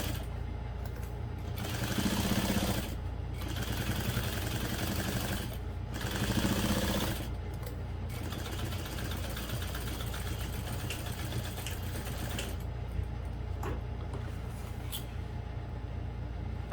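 A sewing machine sews the bottom panel of a barrel bag lining to its side, a continuous, close, humming motor drone with rapid needle chatter and brief pauses as the fabric is adjusted.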